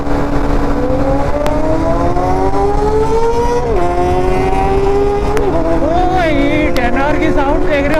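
A motorbike engine revs loudly during a ride, its pitch climbing steadily through the gears with brief drops at shifts, and wind rushing throughout.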